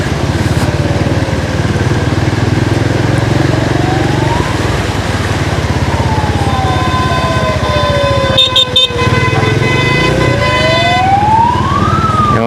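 Emergency vehicle siren wailing on a flooded road near a burning house, rising and falling sweeps over a steady engine rumble, loud and continuous, with a brief burst of clatter partway through.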